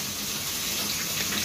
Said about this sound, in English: I'm washing my face already.